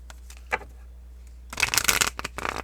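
A tarot card deck is riffled and shuffled in quick bursts, soft flutters and snaps close by, with brief pauses between handfuls.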